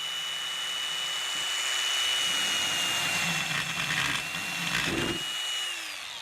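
A Vevor diamond chamfer bit driven by an angle grinder, a high steady whine with grinding scrape that rises and falls as the bit bites in, ending with the motor winding down.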